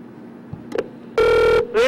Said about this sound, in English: Swamiji, the phone is on the ringing